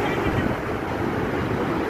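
The flooding Marpha Khola river in Mustang rushes past in a dense, continuous roar of churning water, loud and unbroken throughout.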